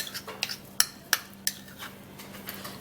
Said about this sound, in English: in the plantain and baking soda, and then we mix it up.